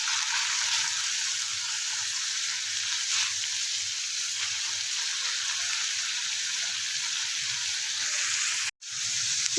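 Minced meat (keema) frying on a tawa with cumin, a steady dense sizzle that stays close and even throughout, with a brief dropout near the end and no talking.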